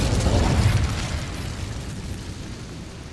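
Incendio fire spell cast in a video game: a loud, close whooshing burst of flame that swells at once and then slowly fades over about three seconds.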